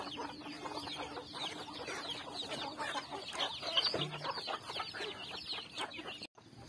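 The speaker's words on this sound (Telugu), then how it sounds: "మన అన్ని కోళ్ళు వచ్చి ఇత్తులు తినేస్తున్నాయి." A flock of chickens clucks and chatters nonstop as they peck at seeds. The sound is busy and overlapping, moderately near, with soft ambient noise underneath.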